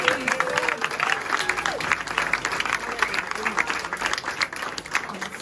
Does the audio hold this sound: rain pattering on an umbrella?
no